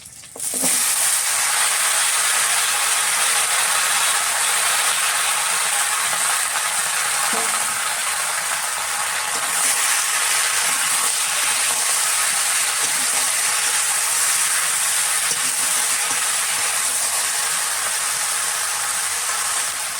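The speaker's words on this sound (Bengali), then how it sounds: "ওই কড়াইতেই একটুখানি তেল দিয়ে কাঁচা লঙ্কা ফোড়ন দিয়ে আমি সবজিটাকে রান্না করে নিচ্ছি।" Vegetables cooking in a wok with a little oil and green chili tempering, a steady loud hiss of sizzling with a few soft knocks and scrapes, heard close and without talk.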